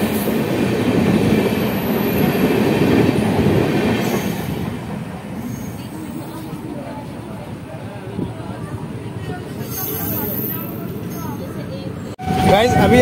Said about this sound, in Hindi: अभी एथल से हमने डिपार्चर लिया है येलो सिग्नल के साथ, अपने ट्रेन जो है 30 की स्पीड को मेंटेन करते हुए